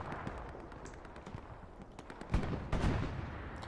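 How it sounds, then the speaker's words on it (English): Grenade explosions and gunfire in the Hell Let Loose war game: scattered rifle shots and distant pops give way to two loud, close grenade blasts in quick succession near the end. "Some nades to clear the point"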